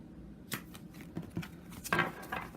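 A World Spirit Tarot deck, second edition, is shuffled by hand, giving soft close papery riffles and flicks in a few short bursts, quiet and alone.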